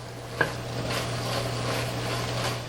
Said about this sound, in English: I'm gonna give it just a quick stir because I want them to release their flavor in here